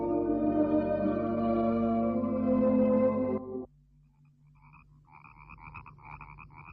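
Many frogs croak in a marsh, a pulsing chorus of repeated calls rising after music ends abruptly partway through, the croaks moderately loud and steady.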